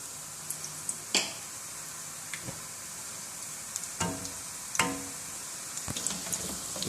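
Gram flour bhalle frying on low flame in oil: a faint, steady sizzle with scattered small pops and crackles, quiet and close, without talk.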